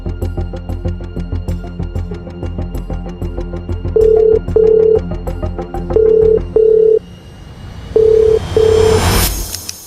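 A telephone call ringing out: an even tone repeats in short paired bursts over a low rumbling background, then ends with a burst of noise.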